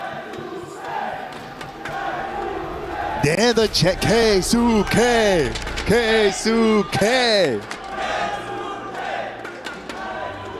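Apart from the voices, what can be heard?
esports crowd cheering for Keisuke at Tekken 8 event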